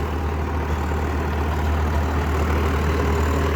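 A tractor engine runs in a cultivated field, a loud steady low drone with a constant hum and no variation, close by and without talk.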